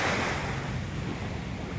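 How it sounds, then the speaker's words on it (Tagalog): Rough, choppy sea waves surge steadily on a beach at Tansa, a continuous loud wash of surf with some wind noise on the microphone and no voices. "Ngayon medyo maalon siya"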